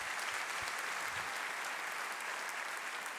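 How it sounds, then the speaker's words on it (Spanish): A church congregation applauds in steady, dense, even clapping that holds throughout, moderately distant and without speech. "un aplauso para Dios"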